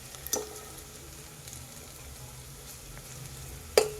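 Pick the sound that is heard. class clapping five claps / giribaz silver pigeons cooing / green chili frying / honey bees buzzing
green chili frying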